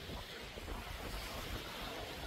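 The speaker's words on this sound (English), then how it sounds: "the ocean." Ocean surf washes onto a beach in a broad, continuous roar, with wind buffeting the microphone and no voices.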